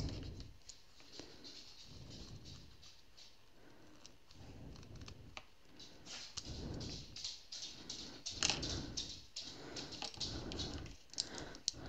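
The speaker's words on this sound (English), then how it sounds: "And these scissors get in there perfectly." Scissors snip repeatedly through stiff canvas edges of a diamond painting, close by, in a quick uneven rhythm of crisp cuts with small rustles between them.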